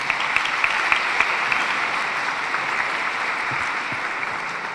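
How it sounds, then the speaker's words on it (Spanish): An audience at an immigration town hall in a high school applauding a speaker, a steady wash of many hands clapping at moderate loudness with a few sharper claps standing out, no speech. "Un aplauso para Lisa."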